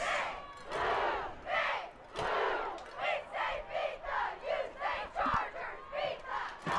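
Crowd noise at a high school regional playoff football game between the Fulshear Chargers and Smithson Valley Rangers on a cold, damp Friday afternoon: repeated rising bursts of shouting and chanting from the stands, loud and continuous throughout.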